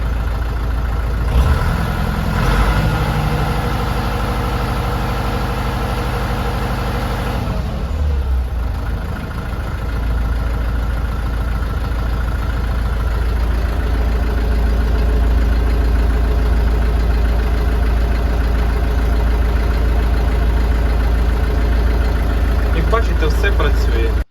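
A mini tractor engine idles steadily with a loud, continuous low chug and a few brief knocks and handling noises early on.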